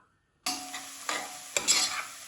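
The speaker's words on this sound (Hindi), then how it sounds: "अब इसके अंदर प्याज डाल देंगे, इसको थोड़ा सा पका लेंगे" Onions sizzle and crackle steadily in oil after a sudden start, with a couple of louder stirring scrapes and spits partway through.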